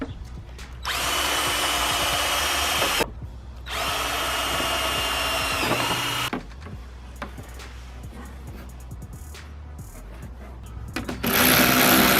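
A power drill whirs in two sustained bursts of a few seconds each while drilling a car's rear diffuser, separated by short pauses, followed by quieter clicks and handling noises, then a final burst.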